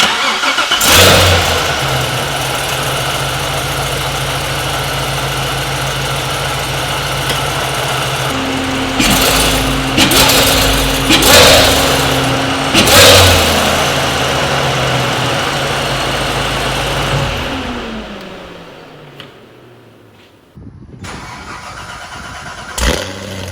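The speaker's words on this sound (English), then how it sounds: "Let me give you guys a startup. That way you guys can hear it." A Corvette C7 Z06 fitted with a ported supercharger blower starts up, then idles loudly with sharp revs blipping several times before the engine shuts off, followed by a brief quieter restart of sound.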